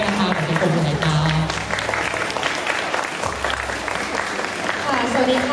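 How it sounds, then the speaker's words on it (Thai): An audience at a Thai panel seminar gives sustained applause, a loud, continuous patter of many clapping hands with some voices speaking over it near the start and end. "ขอเสียงปรบมือให้ครับ"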